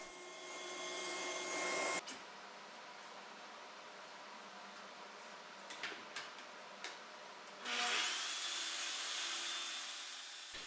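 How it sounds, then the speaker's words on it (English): A power saw cutting wooden vertical dividers and side pieces, with loud bursts of whining cutting at the start and end and quieter knocks and handling of wood in between. "Here I'm cutting the 4 vertical dividers and the 2 side pieces."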